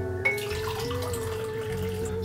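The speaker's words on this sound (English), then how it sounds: "you'll take 1 cup of boiling water" Boiling water pours steadily into a bowl of jell-o mix, a continuous close splashing and trickling with no talking.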